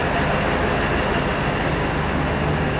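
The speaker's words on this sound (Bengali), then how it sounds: "ডিজেলে চলে তাই আওয়াজ তো হবেই ইঞ্জিনের আওয়াজ হচ্ছে" A steady, loud diesel DEMU train engine rumble, continuous broadband noise with no pauses or voices.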